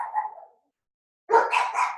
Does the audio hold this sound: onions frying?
no